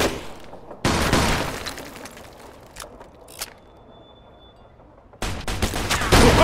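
Gunfire rings out in the Mafia 2 video game during a firefight, loud bursts and sharp single shots with crashing, shattering impacts and quieter gaps between volleys.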